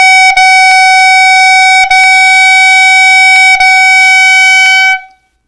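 A clarinet holds a steady, loud, connected tone while the tongue lightly interrupts it several times, each note touching the next without air gaps, before the sound cuts off cleanly; close and solo with no talking.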